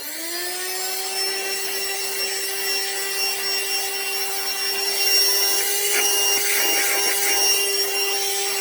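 AstroAI portable 12V car vacuum cleaner working on a tough rug: a steady high-pitched motor whine with suction hiss, loud and close, and a brief rough scrubbing of the rug near the end.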